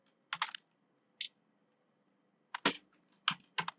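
Bursts of computer keyboard typing entering a search query, a few quick clusters of key clicks separated by pauses, close and fairly quiet with no talking.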